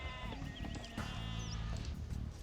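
Sheep bleat in Age of Empires II, a few wavering nasal calls overlapping close and clear above a low rumbling game ambience, lasting a couple of seconds.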